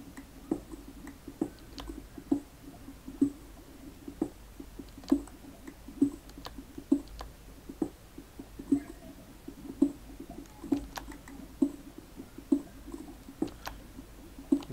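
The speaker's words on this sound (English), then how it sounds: "The lava sounds getting awfully close." Lava in the Minecraft video game, heard underground while mining for diamonds, gives off a steady series of soft popping, clicking blips at an irregular rhythm over a faint low background hum, with no talking.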